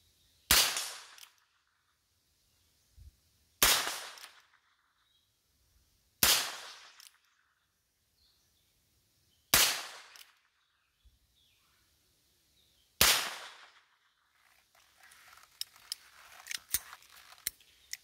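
Five sharp shots ring out from a Heritage Rough Rider .22 revolver with a 9-inch barrel, fired outdoors in the country at a 50-yard target, spaced a few seconds apart, each decaying quickly, followed by faint rustling and clicks.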